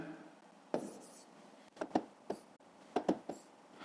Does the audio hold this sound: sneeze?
no